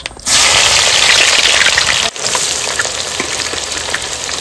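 Whole garam masala, bay leaf, dried chillies, cumin seeds and chopped onion hit hot mustard oil in a pan, bursting into a loud, continuous sizzle that steadies into steady frying with a brief dip midway.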